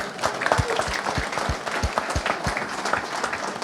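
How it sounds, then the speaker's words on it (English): Attendees at a driver meeting give military veterans a round of applause, a steady, moderately loud patter of many hands clapping with faint low thumps and murmuring beneath. "Let us give you a round of applause and thank you for your services"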